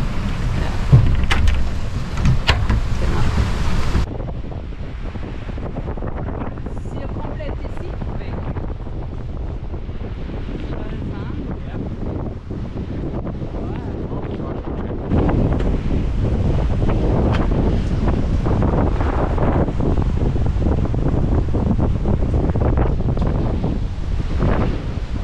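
Strong wind of around 30 knots roars across the microphone while sailing in the Caribbean in rain, with waves washing and surging beneath the heavy, continuous gusts.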